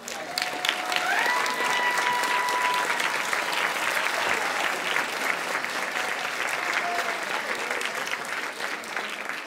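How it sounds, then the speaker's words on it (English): Audience applause fills a band banquet hall, steady and dense throughout, with a few whistles or tonal squeals rising near the start and brief voices beneath the clapping. "Keep on clapping"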